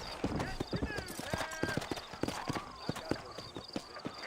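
Horse hooves clip-clopping at a slow walk in Red Dead Redemption, a quick irregular run of close hoof knocks with a voice talking over them.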